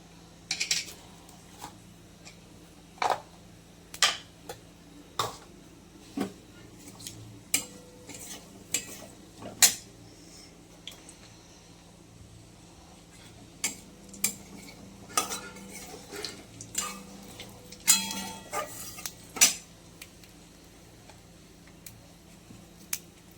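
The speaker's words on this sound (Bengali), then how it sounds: "আর কালো জিরা ফোড়নে দেবো" Nigella seeds tempering in a pan, with a soft steady sizzle under repeated sharp clinks and scrapes of a utensil stirring against the metal, the taps irregular and close.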